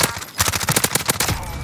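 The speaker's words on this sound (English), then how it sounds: "Taking shots" Rapid bursts of automatic gunfire from the video game Warzone crackle in quick succession and stay loud and close before tapering off.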